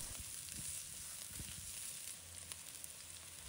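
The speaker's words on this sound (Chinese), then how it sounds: "小米椒炒出香味" Bird's eye chili peppers stir-fry in hot oil with minced scallion, ginger and garlic, giving a steady close sizzle with light scraping stirs throughout, faint overall.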